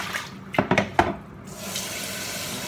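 Tap water runs into a sink as raw chicken mid wings are rinsed, with a few sharp splashes and handling noises early on, then a steady running stream, close and moderately loud.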